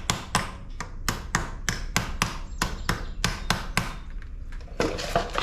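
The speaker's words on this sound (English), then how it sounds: "slide that over the positive plug, give it a little tap" Battery terminal on a John Deere X758 mower being tapped down onto the positive post, about a dozen sharp, close metallic knocks in an uneven rhythm with short pauses, no talking.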